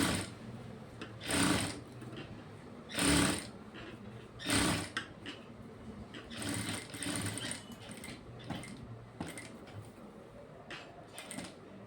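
A sewing machine stitches a boat-neck blouse in short, loud bursts of rapid whirring separated by quiet pauses, then in a run of shorter, choppier stitching spurts.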